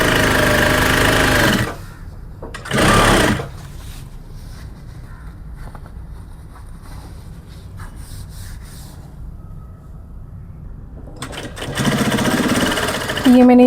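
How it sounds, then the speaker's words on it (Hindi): A sewing machine stitches a folded bag strap along its full length. It runs in loud, steady bursts: one near the start, a short one soon after, and another near the end, with quieter handling noise between. "इस तरह से मैं ये पूरा लाइन इसे फोल्ड करते हुए स्टिच करूँगी अभी"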